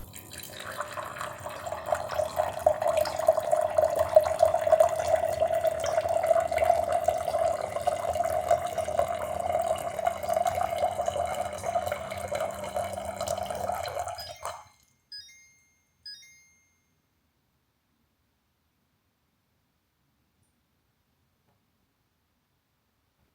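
Water pours steadily from a reverse osmosis water filter dispenser into a container for about fifteen seconds, with a bright trickling tone, then stops, leaving a couple of final drips and silence.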